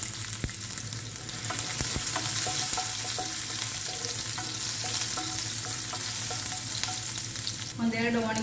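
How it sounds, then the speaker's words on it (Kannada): Small sambar onions and mustard seeds frying in oil, a continuous close crackling sizzle with stirring clicks scattered through it, and a brief different sound near the end. "ಈರುಳ್ಳಿ ಸ್ವಲ್ಪ ಕಲರ್ ಚೇಂಜ್ ಆಗೋ ತನಕ ಫ್ರೈ ಮಾಡ್ಕೊಬೇಕು"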